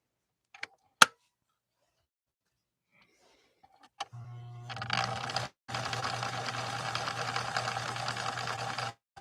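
A 1964 Viking Husqvarna 19E Special sewing machine starts after a few faint clicks and hums steadily at close range, stitching, with a brief pause before it resumes and runs to the end.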